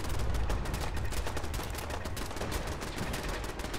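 Dense gunfire in Fallout 4, an unbroken stream of rapid, loud shots and bursts that stays close and continuous throughout, with no talk over it.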